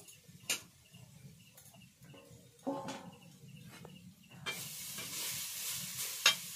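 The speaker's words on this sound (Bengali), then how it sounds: "প্রথমে আমি নারকেল দিয়ে দিলাম কড়াইতে" Soft scraping strokes stir grated coconut in a wok, spaced and unhurried, with a faint tick now and then and a gentle sizzle rising near the end.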